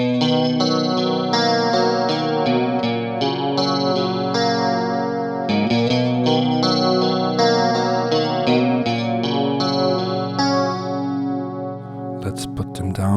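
An electric guitar runs through a Boss chorus pedal with every control turned up, playing a clean picked melody with a shimmering, slightly wobbling chorus sheen, loud and steady, ending in a short noisy scrape.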